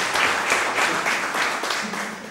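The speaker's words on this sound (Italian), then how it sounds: "un applauso per ringraziare" Applause from an audience at a local history book presentation in Cerreto, close and dense, a brief steady burst of clapping that tapers slightly.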